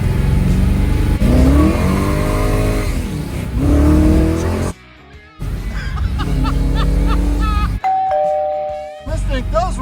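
A big-block 1955 Chevy with a tunnel ram and four-speed pulls hard on the street, engine rising and falling through gear changes with brief lifts between, loud and close, while people talk over it.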